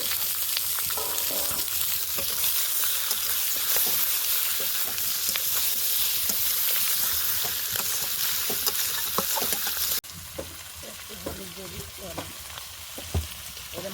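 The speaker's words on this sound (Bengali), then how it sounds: "পেঁয়াজ রসুনগুলো মা একটু হালকা হালকা করে ভেজে নেওয়ার পর তাতে চেরা কাঁচা লঙ্কাগুলো দিয়ে দিয়েছে ওর মধ্যে দিয়ে দিল কেটে রাখা মাংস" Meat frying in a pan with onion, garlic and slit green chillies, a loud steady sizzle with stirring scrapes throughout, easing slightly partway through.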